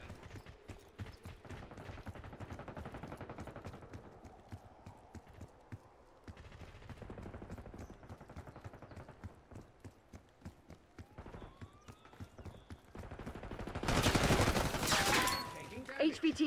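Rapid gunfire from the Black Ops 6 video game, with bursts of shots crackling through most of the stretch, rising to a dense, louder volley near the end amid other game noise.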